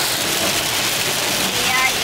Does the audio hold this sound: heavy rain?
yes